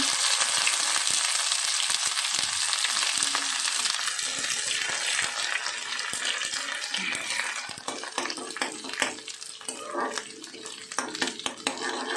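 Ginger paste hits a hot spice tempering for Bengali dhokar dalna, giving a steady, close, loud frying sizzle that thins into scattered crackles and pops toward the end.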